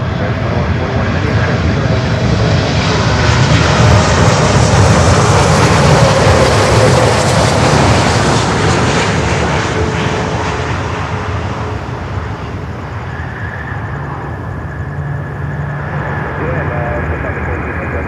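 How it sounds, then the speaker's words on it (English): A Lufthansa Boeing 747-8 from Frankfurt lands at Miami, its loud, broad engine roar peaking midway and then easing into a lower steady rumble, with faint radio chatter underneath. "Queen Lufthansa 747-8 from Frankfurt, Germany."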